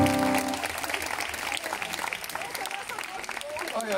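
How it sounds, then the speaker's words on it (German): Concert audience applauding at a live rock show in Homberg (Efze), steady clapping throughout with cheers, while held keyboard and band tones ring out underneath. "Bitte einen riesen Applaus"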